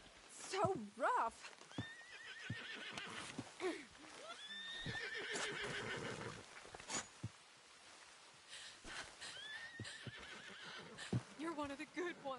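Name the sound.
horse neighing in a video game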